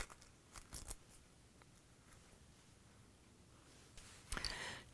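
Scissors trimming excess seam allowance on handwoven fabric, a few sparse, close snips spread out over quiet room tone, ending with a brighter cluster of cuts.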